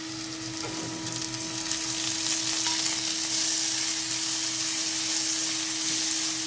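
Onion, green chili and ginger-garlic paste sauté in a pan while making samba rava upma, a steady moderate sizzle and hiss with faint stirring scrapes and no talk.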